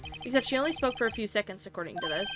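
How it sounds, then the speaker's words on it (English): A telephone ringtone from the Ace Attorney video game, an electronic ring that sounds under and between a voice talking throughout, with a steady high tone near the end. "I heard a phone ring just now."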